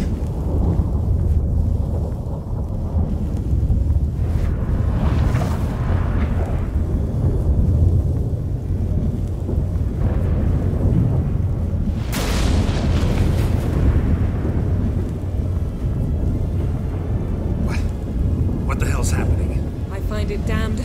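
Thunderstorm in The Witcher 3, a long rolling rumble of thunder with sharp cracks and steady rain-like noise, loud and close, with voices speaking over the storm.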